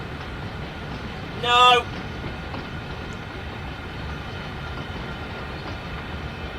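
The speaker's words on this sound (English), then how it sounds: "So, into the Brendal spur we go with these 5 tankers." Steady rumble of a train hauling five tank cars into a spur in the Train Sim World 2 video game, heard alongside a brief shouted voice.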